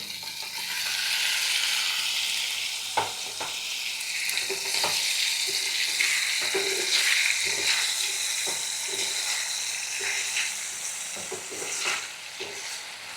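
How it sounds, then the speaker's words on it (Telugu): Tomatoes fry in oil in a pan with a loud, steady sizzle and hiss, broken by occasional stirring scrapes and small pops, close up and without voices. "టొమాటోస్ని ఉడకబెట్టుకుందాం ఆయిల్లో బాయిల్ చేసుకుందాం"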